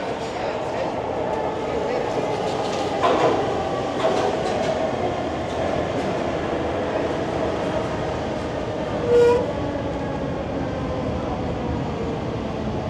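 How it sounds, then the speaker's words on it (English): Train passing at Kensington and Somerset station in Philadelphia, a loud steady rumble of rail cars with faint clatter throughout. "Kensington and Somerset train station."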